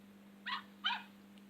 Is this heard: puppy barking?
yes